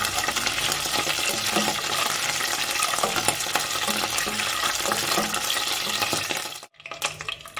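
Mint leaves fry in hot oil with a loud, continuous crackling sizzle and scattered metallic stirring clinks, close up, cut by a brief silent gap near the end.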